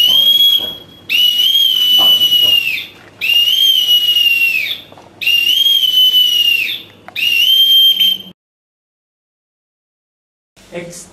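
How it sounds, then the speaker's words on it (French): A shrill boatswain's pipe sounds four sustained high whistles, each rising and holding, separated by short breaks, then silence and a brief final note, at a naval memorial ceremony. "par le sifflet du gavier."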